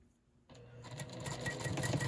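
A sewing machine chain-piecing quilt block units starts up after a brief pause and runs in a rapid, even mechanical patter that grows steadier, heard fairly quietly and close.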